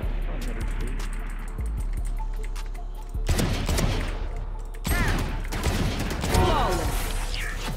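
Rapid gunfire in VALORANT comes in several loud bursts over a steady game background. Shots cluster near the middle and the end.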